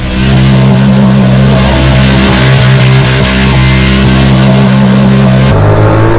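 A 2019 Honda Pioneer 1000 side-by-side engine droning loud and close while riding, a steady low rumble with a clear drop in pitch near the end as it shifts.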